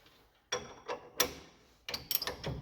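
A tool turns and snugs up disc brake bolts on a bike called Betty, giving a series of close metallic ratcheting clicks and knocks in short irregular bursts. No voices are heard over the clicks.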